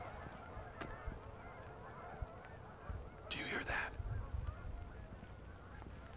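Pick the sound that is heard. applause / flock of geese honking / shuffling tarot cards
flock of geese honking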